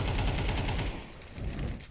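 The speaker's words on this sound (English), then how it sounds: "Kiro, good headshot to start" Rapid bursts of gunfire from a competitive tactical shooter match, dense overlapping shots close and loud for the first second, then a short lull before more firing resumes.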